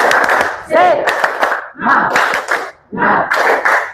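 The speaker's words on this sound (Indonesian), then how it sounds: "Oke, 1, 2, 3. Tepuk semangat." A group claps a rhythmic pattern together while shouting a chant in bursts, loud and close, with short pauses between rounds.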